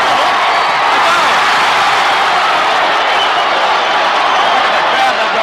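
A rugby league grand final crowd roars after a goal kick sails through, a dense, loud and continuous wall of cheering that holds steady from start to finish, with a commentator talking over it.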